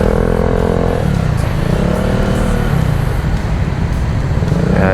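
Motorcycles and road traffic roar close by on EDSA toward Ortigas in Manila, heard while riding alongside on an e-bike; engines rev and drone loudly and continuously, with shifting pitch as bikes pass, and no one speaks.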